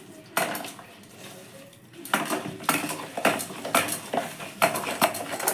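A spoon stirs eggless, flourless cake batter made with Horlicks and room-temperature water in a bowl, clinking and scraping against the sides in quick repeated bursts after a brief quiet start.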